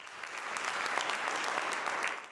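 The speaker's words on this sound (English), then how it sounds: "The crowd applauded Merkel's contributions" An award ceremony audience applauds Angela Merkel, dense, steady clapping from a large crowd that holds at full strength the whole time before easing slightly at the end.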